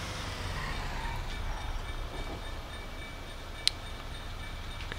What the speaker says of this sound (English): there's supposed to be a train coming,